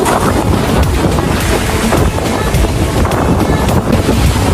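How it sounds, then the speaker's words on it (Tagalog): Strong current and rough, churning waves on an underrated beach in Mauban, Quezon Province, roaring as a dense, continuous wash of surf, close and loud, with heavy wind buffeting the microphone throughout. "Malakas po yung agos sa likod ko and mukhang galit na galit po yung tubig."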